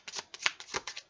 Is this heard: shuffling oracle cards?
yes